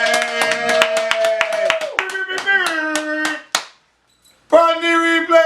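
Hands clap in quick steady rhythm under a sung happy-birthday tune, then the singing drops out briefly and resumes.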